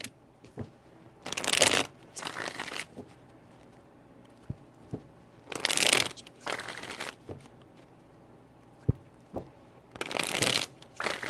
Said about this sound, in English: let me shuffle again for Libra